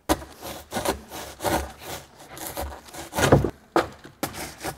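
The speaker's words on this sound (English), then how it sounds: "We're doing more woodworking tools with our Irwin saw." A hand saw from Irwin rasps back and forth through wood in uneven strokes, roughly eight close, scratchy pulls with short gaps between them, heard alone without speech.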